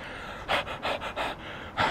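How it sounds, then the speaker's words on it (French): Heavy panting from a man out of breath after walking outdoors in Little India, Singapore: five or six close, loud, rhythmic breaths in quick succession with no talk. "je suis même essoufflé quoi"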